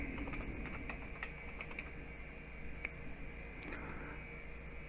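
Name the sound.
typing on a computer keyboard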